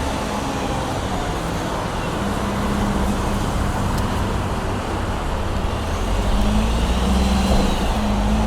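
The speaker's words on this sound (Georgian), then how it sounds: "აი ახლა მარშრუტკა" A marshrutka minibus passing through busy Tbilisi street traffic, a continuous engine and road rumble that swells slightly toward the end, with no speech.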